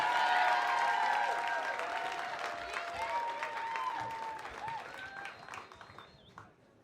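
Audience applause and cheering at a Moth storytelling show fill the room, loudest at the start and gradually fading, with voices calling out in the crowd.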